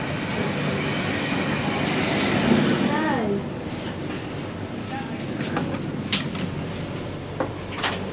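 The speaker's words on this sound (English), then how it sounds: "waiting for a train that is heading to Newcastle interchange" A Sydney Trains service arriving at Wyong station on the New South Wales Central Coast, heading for Newcastle Interchange: a rumbling approach with screeching brakes and clattering carriages, then a quieter idle with door sounds and faint voices.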